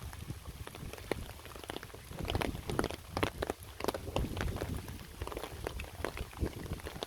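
Heavy rain pours onto a bypass road, a steady dense patter with sharp drop impacts, fairly faint and continuous with no voices.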